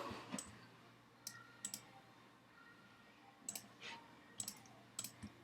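A computer keyboard being typed on during a PTFS air show session. Quiet, close keystroke clicks come in short irregular clusters with pauses between them over a low background hum.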